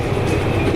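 A heavy freight train rolls along rails in the Derail Valley railway simulator, giving a steady, close, rumbling roll with faint rhythmic wheel clatter and no talking.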